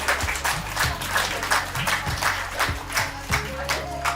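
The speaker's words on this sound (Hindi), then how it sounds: "तालियां बजाइए जोरदार" An audience at a yoga session claps loudly and rhythmically after a pose demonstration, steady synchronized claps with a low hum beneath.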